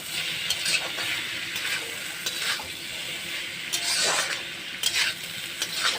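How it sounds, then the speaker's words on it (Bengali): Amaranth greens and eggplant sizzle as they are stir-fried in a pan, a soft steady frying hiss broken by brisk scraping strokes of the spatula. "এবার বেগুন দিয়ে নাড়াচাড়া করে নামাই নেব।"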